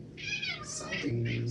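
A house cat meows indoors in several short, rising and falling calls, close and clear, with a steady low hum underneath.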